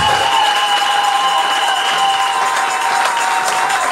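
A church convention audience applauds and cheers for their reverend, a dense, steady wash of clapping from a large crowd throughout.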